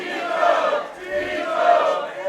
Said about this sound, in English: And the crowd here, happy to see their boy back